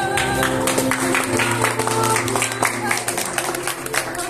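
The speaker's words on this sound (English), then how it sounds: "Let us all give heartwarming, welcoming applause to the groom, Mr. Belson Iman." Clapping from a wedding crowd mixes with music and voices, lively and fairly loud, with scattered sharp claps throughout.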